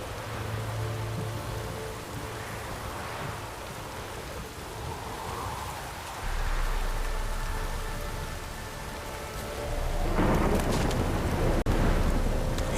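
Rain from a Witcher 3 game thunderstorm, a continuous hiss of rainfall that thickens midway and grows heavier toward the close, with a faint distant rumble beneath and no talking.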